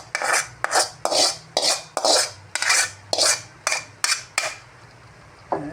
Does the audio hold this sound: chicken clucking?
no